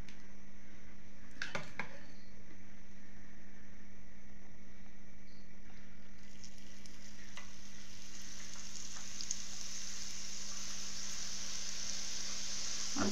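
Boondi batter dripping drop by drop into hot oil and frying, a continuous bright sizzle with a low steady hum underneath and a few faint clinks.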